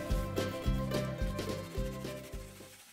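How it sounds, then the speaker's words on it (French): A sponge rubs across a canvas to wipe off sanding dust. The soft scrubbing strokes come close and fairly quiet in a steady back-and-forth rhythm, about five passes, over a faint tonal background. "je termine avec l'éponge de façon à récolter toute la poussière du ponçage"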